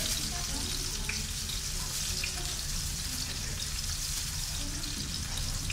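Chicken and clams fry for paella in a pan with celery and garlic, giving a loud, continuous sizzle and crackle with bubbling hiss, close and steady with no pauses.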